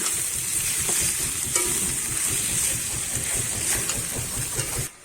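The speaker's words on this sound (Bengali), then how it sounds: "এবারে আমি ভালো করে আবারও নেড়ে চেড়ে মিশিয়ে নেব।" Banana stem (thor) curry being stirred and mixed in a pan: a steady, close sizzle with continuous scraping and stirring throughout, no talking.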